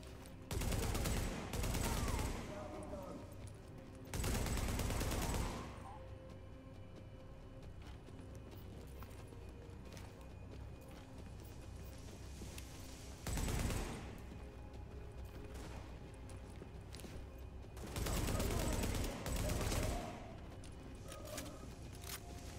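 Bursts of gunfire from The Division, set in lower Manhattan: several loud volleys of rapid shots, each lasting a second or two, separated by stretches of quieter ambient game sound with no talk.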